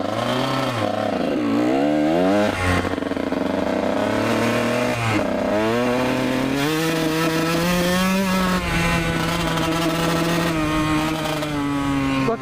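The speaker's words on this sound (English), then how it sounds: "I'm holding the clutch and it's still engine braking" A Kawasaki KX 125 dirt bike engine runs loud and close throughout, its pitch rising and falling as it revs and eases off, with a steady buzzing drone; the clutch doesn't fully disengage, so it engine-brakes with the clutch held.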